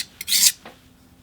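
A knife slides across a King whetstone in one short rasping stroke, preceded by a faint tick, close and crisp, then quiet.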